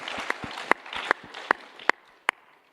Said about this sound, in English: I needed to allow for the claps to end fast